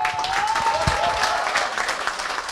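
Audience applause at a press conference celebrating the Fever Voice of Change campaign, a lively sustained burst of clapping from a gathered crowd with a little background murmur.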